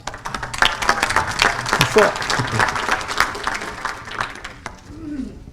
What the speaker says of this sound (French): Vous pouvez l'applaudir par contre.